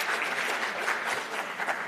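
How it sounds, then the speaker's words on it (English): An audience at an international conference session claps briefly, a steady, moderately loud patter of many hands with no speech over it. "Could you please clap hands for him?"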